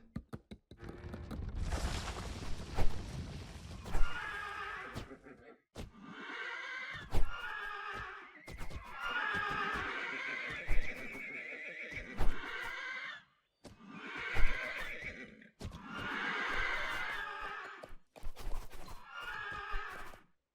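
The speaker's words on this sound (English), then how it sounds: "So more horses, run around again" Cavalry in the strategy game 0 A.D. neighs over and over in loud bursts above the thud of galloping hooves, with scattered clatter from the battle and no voices.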